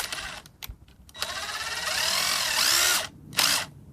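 A cordless impact driver, a DeWalt DCF885 or Ridgid R86035 Gen5X in reverse, works a lug nut loose in short bursts followed by a longer sustained hammering whir, loud and close, with brief pauses between pulls of the trigger.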